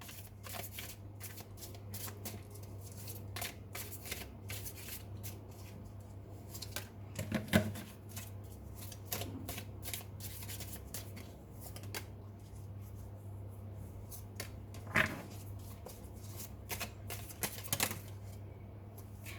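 Tarot cards are shuffled by hand during a reading, soft riffling and tapping at close range over a low steady hum, with a few sharper snaps, fairly quiet and without speech.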